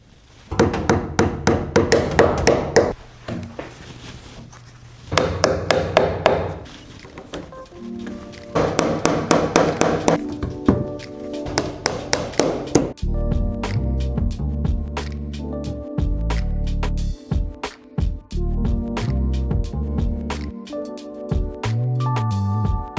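Repeated hammer blows drive wire staples into wood in quick bursts, pausing between groups, then continue steadily against a dense tonal background in a basement.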